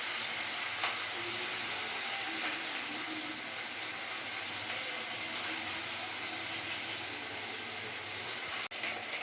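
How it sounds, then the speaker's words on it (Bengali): Chicken pieces sizzling in hot oil in a wok for chilli chicken, a steady dense frying hiss throughout with a brief clack near the end and no talking. "একটু লাল লাল করে ভাজা করে আমি নামাবো"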